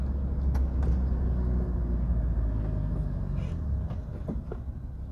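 A car rolls slowly through Philadelphia's Allegheny West neighborhood at about 18 mph, a steady low engine and road rumble from inside the cabin with faint clicks, easing slightly toward the end.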